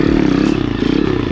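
The engine of an Amazon-bought dirt bike revving hard while it holds a wheelie, a loud, close, continuous buzzing drone with a fast pulsing rhythm.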